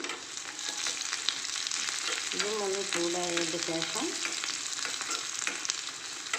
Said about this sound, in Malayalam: തേങ്ങാക്കൊത്തായതിന് ശേഷം ഉള്ളി ഇട്ട് കൊടുത്ത്